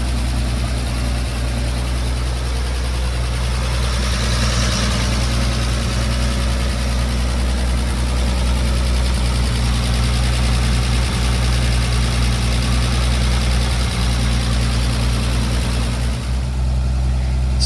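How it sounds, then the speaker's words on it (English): A 1950 Chevrolet 4400 dump truck engine idles in a steady, even low rumble with its fans turning. The sound is loud and close and runs unbroken throughout. "It's idling now, fans are turning."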